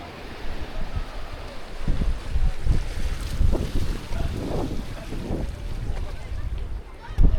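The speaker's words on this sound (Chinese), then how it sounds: "又来到了海边啊，这是岛的另一边的海。" Wind gusts and surf on the seaside along the far side of Enoshima island, a steady outdoor rush with low rumbling buffets against the microphone throughout.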